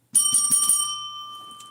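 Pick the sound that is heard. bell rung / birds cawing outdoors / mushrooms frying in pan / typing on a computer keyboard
bell rung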